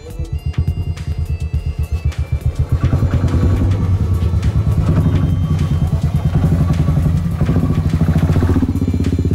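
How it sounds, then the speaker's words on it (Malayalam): A motorcycle rides through a narrow stone tunnel cut into a hill, its engine loud and close with a rapid, steady pulsing beat that swells and holds, echoing off the rock walls. "ഇതുപോലെ ഒരു വണ്ടി, ഒറ്റ വണ്ടിയെ പോകുള്ളൂ, ഒരു ബൈക്ക് മാത്രമേ ഇതിലൂടെ പോകുള്ളൂ."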